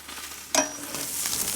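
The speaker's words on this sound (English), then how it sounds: "This thing is blazing hot now, perfect to sear those steaks" Steaks hitting a blazing hot pan set off a sudden loud sizzle that keeps hissing and crackling steadily afterward, close and alone.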